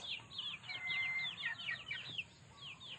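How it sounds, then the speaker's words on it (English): Backyard chickens cluck and chirp in short, scattered bursts, moderately close but fairly quiet, over a soft outdoor background on a morning after rain. "Good morning, chickens."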